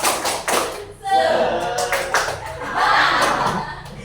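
A school class claps along to a clap chant led by a teacher. Loud bursts of hand claps mix with the group's chanting voices.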